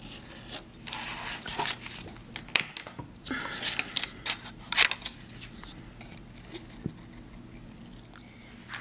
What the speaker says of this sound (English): I'm going to go ahead and trace and cut out one of those circles